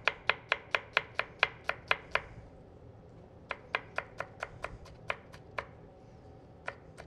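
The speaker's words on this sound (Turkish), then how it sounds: "Minik minik minik minik doğramaya devam edelim." A knife finely chops ingredients for chicken ezogelin soup on a board, a fast run of crisp, evenly spaced taps, then a pause and a second quicker burst of chops.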